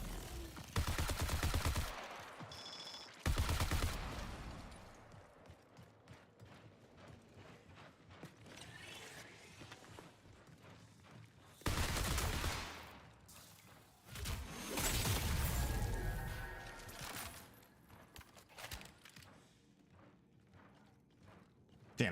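Gunfire in the shooter game Marathon comes in several loud, separated bursts of rapid shots with mechanical clatter between them, and quieter gaps in between.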